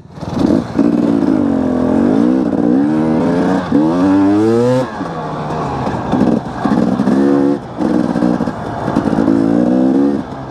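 Husqvarna FE350 dirt bike on a trail ride, engine loud and close, revving up and down in repeated rising and falling bursts as gears shift, with brief drops between pulls.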